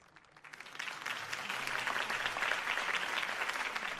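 A crowd bursts into sustained applause after a mayoral campaign speech in an animated Batman episode, swelling quickly from a few claps into a dense, steady roar of clapping that holds to the end.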